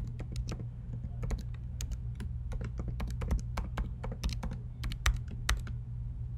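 Quick, irregular bursts of keystrokes on a computer keyboard as a username and password are typed, close and crisp clicks in uneven clusters with short pauses, no talking.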